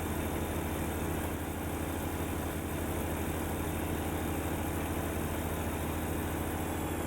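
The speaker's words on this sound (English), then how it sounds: "Engine seems to like between about 1500 and 2000 RPM." A heavy truck engine drones steadily in American Truck Simulator, a continuous low rumbling hum at mid revs, loud and unbroken with no talking.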